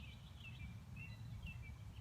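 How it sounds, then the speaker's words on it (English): Birds chirp and sing outdoors in short, thin bursts over a steady low rumble, faint and somewhat distant. "Really enjoying hearing the birds singing while we practice."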